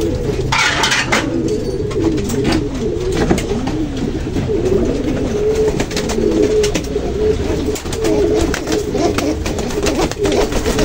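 Pigeons coo in low repeated throaty calls close by, a steady burbling rhythm that continues throughout, with light rustling and faint background noise.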